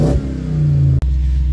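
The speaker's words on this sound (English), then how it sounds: "Gonna blip the throttle." Toyota Hilux engine revved with a quick throttle blip, a loud close rising growl that holds steady as a strong rumble, with a brief dropout near the end.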